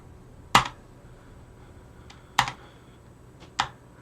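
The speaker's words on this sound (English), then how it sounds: "To run that, we type bash mini, and then I can tab complete." Three sharp, isolated key presses on a computer keyboard while entering a terminal command, with fainter clicks between them, close and crisp against a quiet background.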